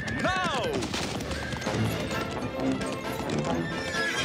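Horses in a Rupert cartoon, the king's horses arriving, let out a loud rising and falling whinny up close, followed by a steady stream of clip-clopping hooves. A voice shouts briefly over the commotion.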